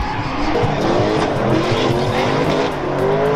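Race car drifting at the 2022 French Grand Prix, with tires squealing in long rising and falling howls over steady loud engine roar, close and continuous throughout.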